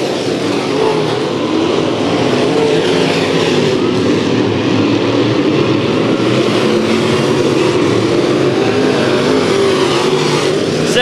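Sport modified race cars running three wide down the front stretch at Bakersfield Speedway, a dense, loud, continuous roar of several engines heard from trackside, with no voices over it.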